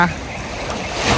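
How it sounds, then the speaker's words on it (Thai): Sea waves wash onto a beach, a steady broadband rush of surf that swells slightly toward the end, close and fairly loud, with a voice briefly at the start. "โอ้ยน้องข้าวมาดูคลื่นนี่ดีกว่า"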